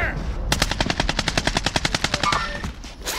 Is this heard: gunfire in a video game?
yes